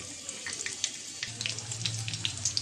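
Shrimp, onion, garlic and green chili fry in oil in a wok, giving a continuous crackling sizzle with scattered pops and a low bubbling undertone, moderately loud throughout.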